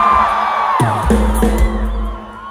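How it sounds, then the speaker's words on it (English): A concert crowd at a Vans Warped Tour 2016 show in Atlanta yells and screams as one continuous loud roar, with whoops rising over a low rumble of stage sound. "Just start fucking screaming."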